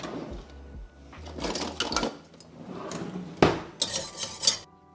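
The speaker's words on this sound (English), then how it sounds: "Tons of whisking here" A metal whisk clatters and scrapes against a pan while stirring a butter and flour roux, with quick irregular clinks and scraping strokes, close and moderately loud.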